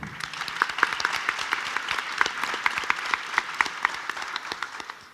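Audience applause at a literary biennial panel in Guadalajara, a dense patter of many hands clapping steadily throughout, with distinct sharp claps standing out near and the crowd sustaining it evenly until it tapers at the end.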